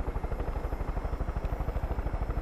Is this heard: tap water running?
no